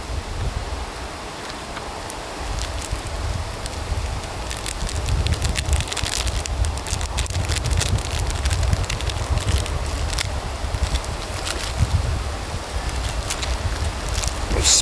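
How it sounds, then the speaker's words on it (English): Strong outdoor wind buffeting and roaring across the microphone for the full fifteen seconds, loud and continuous with gusty rumbles and rustling, and no voices. "It's really, really windy."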